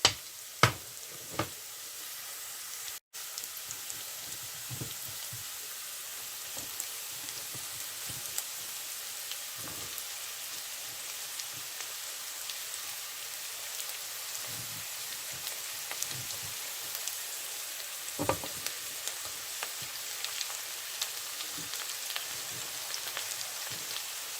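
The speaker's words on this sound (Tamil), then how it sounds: "நான் இதில் எடுத்து வச்சிருக்கிற முருக்கங்காய், உருளைக்கிழங்கு துண்டுகள், மற்றது பலாப்பழ விதை துண்டுகள் இதையும் ஒன்றா போட்டு நான் கொஞ்ச நேரம் தாளித்து எடுக்க போகிறேன்" Pieces of drumstick, potato and jackfruit seed frying in a pan for a drumstick curry, a steady soft sizzle running throughout with a few louder pops and stirring scrapes, no voices.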